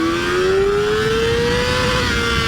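A 2023 Kawasaki ZX-4RR inline-four sport bike revs hard and loud and close, its engine pitch climbing steadily toward redline, alone with no talking.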